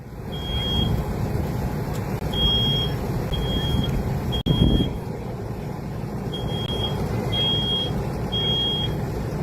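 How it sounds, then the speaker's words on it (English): A smoke alarm sounds during a live fire demonstration, giving a steady run of short, shrill, evenly spaced beeps. Loud room noise and low rumble sit underneath, with a sharp thump near the middle. "The alarm has gone off."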